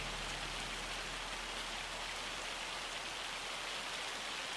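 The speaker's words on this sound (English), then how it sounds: "That's really hailing now." Steady dense hail or heavy rain hammering down in Farming Simulator 25 while fields are worked, a constant broadband patter with a low hum beneath, no talk.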